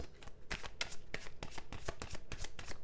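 Tarot cards are shuffled by hand in quick riffling bursts, about a dozen crisp flutters in an uneven rhythm, close but quiet, with no voices.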